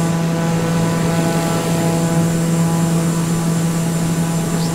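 Steady loud drone of a Daher TBM 930 turboprop airplane engine heard from outside, with a constant low hum and broadband roar, no voices.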